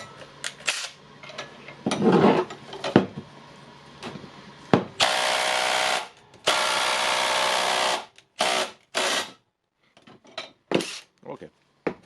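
A repaired Makita DTD153 cordless impact driver clamped in a vise, spinning in loud steady bursts of a few seconds each, then shorter on-off pulses, with handling clatter between runs.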